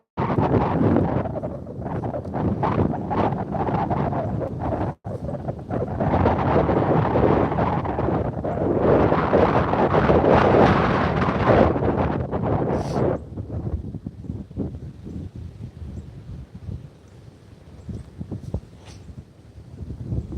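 Strong wind gusting across open ice during ice fishing, buffeting the microphone in loud, rough roaring bursts that ease into a quieter, steadier blow toward the end.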